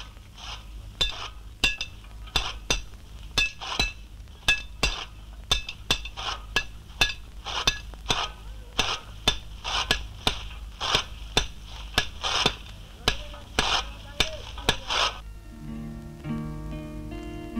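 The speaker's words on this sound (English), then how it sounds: "Children hammering heavy iron in a blacksmith's shop" Children hammer heavy iron in a blacksmith's shop, with regular ringing metallic strikes repeating for about fifteen seconds before the clanging stops and a low sustained tone takes over.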